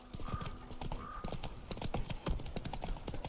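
Roach the horse from The Witcher 3 trots along in a steady, close clip-clop rhythm of hooves, with a brief game tone in the background and no talking.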